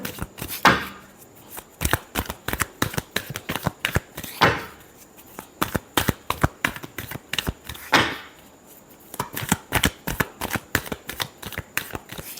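Tarot cards are shuffled in rapid, crisp riffles and flicks, with three longer whooshing bridge sweeps spread through the clip. It sounds close and plays alone with no talk.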